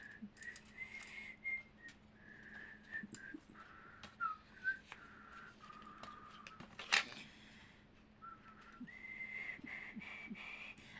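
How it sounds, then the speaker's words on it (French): A person whistling a meandering tune in short phrases with pauses between them, faint and close, over a quiet background with a low steady hum and an occasional sharp click. "Je siffle aussi."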